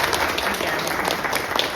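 An audience applauding after a live interview on a Brazilian broadcast, a short, dense burst of steady clapping from many hands, close and even throughout.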